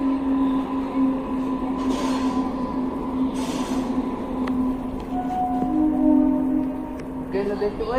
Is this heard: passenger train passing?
yes